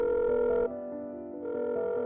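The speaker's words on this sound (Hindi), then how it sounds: "उसने माही को कॉल भी लगाया, पर माही फोन नहीं उठा रही थी।" A phone call rings unanswered, a steady multi-tone ringback that dips briefly midway and then resumes at an even level, heard alone with no talking.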